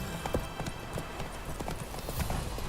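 A horse gallops in the video game The Witcher 3, its hooves giving a rapid, rhythmic clip-clop of moderate loudness over steady background ambience.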